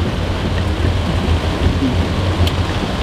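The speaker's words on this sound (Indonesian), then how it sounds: "di luar cuaca hujannya udah sangat deras" Heavy downpour outdoors, with a dense, steady hiss of rain and a low rumbling undertone that carries on without a break, loud and close, with no voices.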